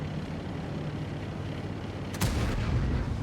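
A tank's main gun fires once in a World of Tanks battle, a single sharp boom cutting through a steady low rumble of engine and ambient game noise.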